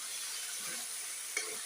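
Vegetable stir-fry with turmeric, chili powder and curry leaves sizzling in a pan while being stirred, a steady quiet hiss with faint scraping.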